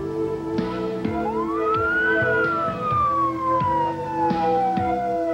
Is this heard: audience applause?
no